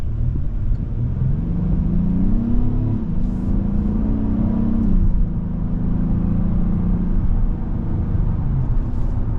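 A 2024 Acura MDX A-Spec accelerates back up to road speed, its engine note rising steadily and holding with a continuous near rumble and whir under tyre and road noise, with no talk.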